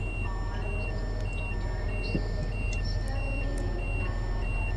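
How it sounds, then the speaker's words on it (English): A train cab alarm in a train simulator game on the York to Peterborough route, sounding as a steady repeating electronic beep pattern with a constant low engine hum beneath it. "someone remind me how you turn this stupid alarm off again?"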